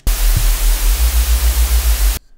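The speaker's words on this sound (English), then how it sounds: "I added some noise on top of it" A layer of white noise added over a heavy neuro reese synth bass, a loud full-band hiss pulsing in steady, even volume swells over a deep low tone, then cutting off abruptly.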